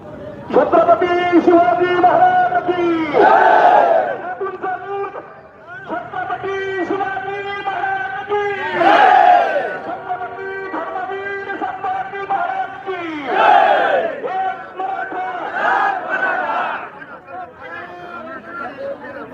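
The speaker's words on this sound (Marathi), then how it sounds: "खर तर रेकॉर्ड ब्रेक गर्दी या ठिकाणी जपलेली आहे" A huge crowd at a rally for Manoj Jarange's arrival in Shevgaon shouts slogans, loud massed voices rising in repeated waves of chanting and cheering, close by and sustained throughout.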